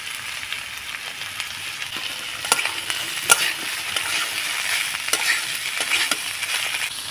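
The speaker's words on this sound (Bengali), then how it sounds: "নাড়াচাড়া করে আমি সবজিগুলোকে ভেজে নেব।" Chopped potatoes and vegetables frying in oil in a pan, a steady close sizzle with scattered scrapes and knocks of a spatula stirring, no talk.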